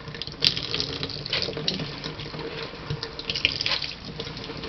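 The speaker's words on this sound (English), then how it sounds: "Look how much water comes out when I go squeezing." Water squeezed and dripping out of a soaked, pulpy object with seeds, a continuous splashing trickle like a running tap, fairly close with small bursts, no talking.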